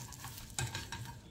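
Egg frying in a pan, a soft steady sizzle with a few light scraping or stirring touches, close and quiet, no voices.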